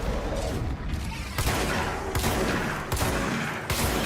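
Gunfire rattles in a video game, with dense shooting and blasts running almost the whole way through and a few louder bursts standing out. A player may be heard faintly under the shots.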